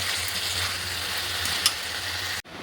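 Tomato and spices frying in a pan, a steady sizzling hiss with light stirring, ending in a sudden cut and quieter background.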